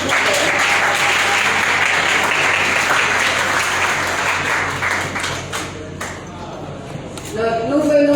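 An audience at a tribute ceremony for 25 young Haitian role models applauds a violinist, with loud, sustained clapping that tapers off toward the end as a voice begins speaking.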